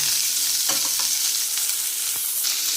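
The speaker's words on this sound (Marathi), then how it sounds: "आता तेल चांगलं तापलं आहे मोहरी लिंब कांदा आणि टोमॅटो व्यवस्थित छान भाजून" Onion and tomato with mustard seeds and curry leaves fry in hot oil for a Maharashtrian tondli (ivy gourd) sabji, giving a steady close sizzle with a few soft stirring scrapes and no talking.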